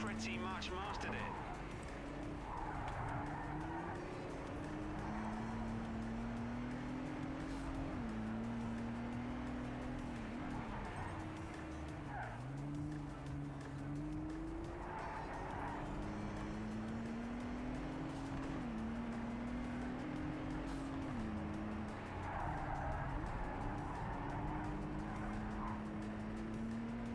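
Race car engines in a Project CARS 3 rallycross race whine and rise and fall with gear changes, a continuous mid-level drone with repeated revving sweeps under a commentator's voice.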